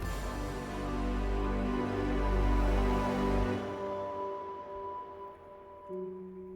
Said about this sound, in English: Listen, you hear that? That's a bull elk,